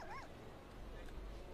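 A dog whimpers in Neverwinter Nights, a short pair of rising-and-falling whines at the start, fairly close, followed by low rumbling game ambience.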